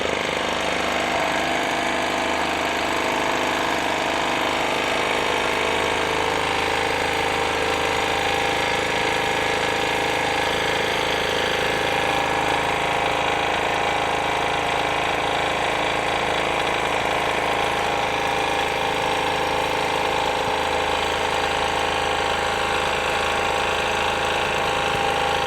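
A portable four-stroke gasoline generator engine runs steadily after a kick start, its loud, continuous mechanical drone holding at an even pitch throughout with no talking.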